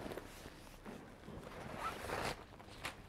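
A zipper is drawn open on the top pocket of a large-capacity business commuter backpack, giving a faint, scratchy, continuous rasp close by, with a few soft handling rustles.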